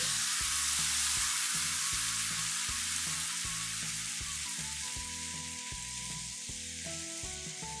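Boiled, pureed tomatoes go into a pan of frying onions for a spicy onion curry, with a steady loud sizzle over a repeating musical backing that gradually softens.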